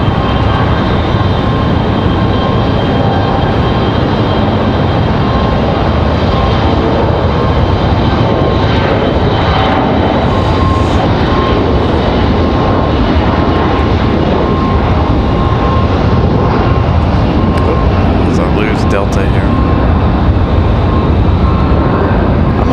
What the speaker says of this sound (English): As a Delta CRJ gets out of here.